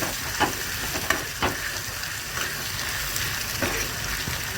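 Cumin, onion and curry leaves fry in a hot pan for a chicken fry masala, giving a steady close sizzle with occasional sharper pops and crackles.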